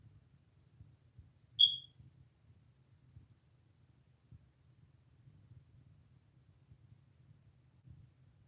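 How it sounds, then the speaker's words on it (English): A household smoke alarm gives a single short, high chirp in an otherwise quiet room, with faint low rumbling around it. "I gotta see which one of these smoke alarms is beeping"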